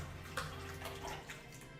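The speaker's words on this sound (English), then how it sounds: "Gonna give it a little stir here." A seed and water mixture of one part seeds to two parts water being stirred, soft continuous sloshing and liquid swishes, quiet and close, with no talking.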